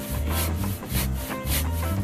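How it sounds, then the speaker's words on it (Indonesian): A freshly filed bucksaw cutting through wood, giving a loud, rhythmic rasping with about four even back-and-forth strokes, close up and alone. "Kita coba buat motong kayu ini ya."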